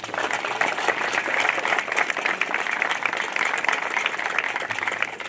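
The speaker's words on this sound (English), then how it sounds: "a big round of applause for yourselves for making this happen." Sustained applause from an audience at a groundbreaking ceremony, dense steady clapping without a break and moderately loud throughout.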